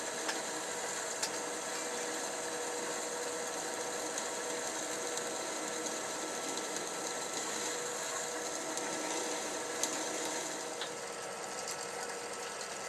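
A steady mechanical whir from a lathe drilling steel runs continuously with a faint metallic hum and occasional small ticks, quiet and unchanging.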